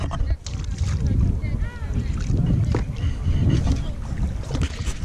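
Paddling a small boat along a creek, with steady water splashing and dipping under wind buffeting the microphone, while people talk throughout close by.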